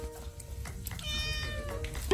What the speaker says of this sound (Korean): 밥 달라고 야옹거려